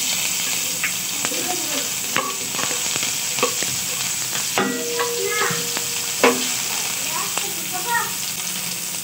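Onions sizzle and fry in hot oil in a pan while being stirred, a steady hiss under scraping utensil sounds, with a voice speaking nearby.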